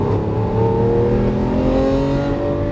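A Lamborghini Aventador LP700-4 engine accelerating hard on a track, its loud, close roar climbing steadily in pitch through a sustained pull with no voices over it.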